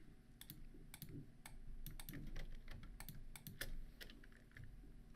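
Keys on a computer keyboard are pressed in quick, irregular bursts of crisp clicks and taps, close and clear over a faint background hum, with no speech.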